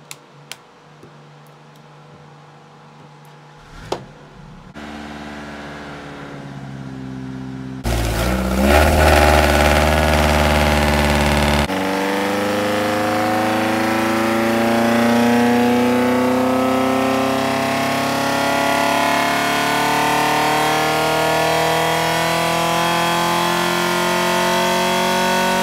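A Ford Pinto 2.0 four-cylinder engine starts, idles briefly, then revs and holds at a steady, loud 2,500 rpm on a dyno, droning continuously.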